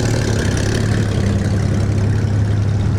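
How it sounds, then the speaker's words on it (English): Steady, loud idle of an Aston Martin GT4 sports car at a cars and coffee gathering, a deep even exhaust burble held close with no talk. "Here's the GT4 with the awesome sounding exhaust."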